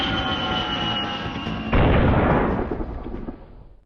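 Airfield bombing in the 1971 India-Pakistan war is heard as a dense roar of blasts and rumbling artillery-like booms. A sharp heavy burst hits midway, and the din then slowly fades away.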